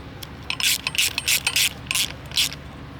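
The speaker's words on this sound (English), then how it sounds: "then we're going to follow through with our socket set." Socket set ratchet snugging nuts on glass pool fence hardware, a quick close series of crisp metallic clicking bursts, about eight strokes in rapid succession.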